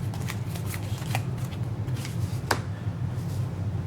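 Playing cards for the Revolver card game being dealt and shuffled on a table, a close run of quick riffling flicks and snaps with one sharper slap near the end.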